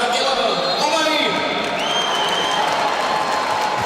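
A stadium crowd at the England vs Germany 2025 UEFA European Under-21 Championship final reacts to the goal scorer announcement with steady, dense applause and cheering. Whistles rise above the roar throughout.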